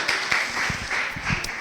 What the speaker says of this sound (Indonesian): Wih, tepuk tangan dulu, lama.